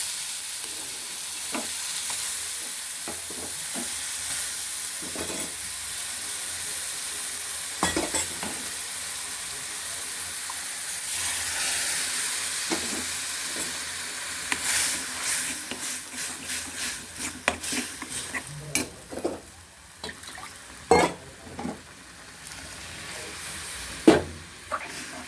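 Onion chutney with added water cooks on the stove, a soft bubbling sizzle that gives way to quick, repeated spoon taps and stirring clatter toward the end.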